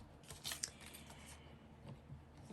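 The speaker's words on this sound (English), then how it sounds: "So I'm gonna go about right here and then just cut to the corner there." Scissors snip through paper while trimming a piece for a fabric-covered fall journal, a few quick close cuts clustered near the start and fainter snips later, no talking.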